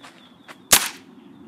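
A Maruzen Walther PPK/S airsoft pistol fires BBs at cans and cardboard: one sharp, close crack after a couple of faint ticks, in a quiet room with no talking.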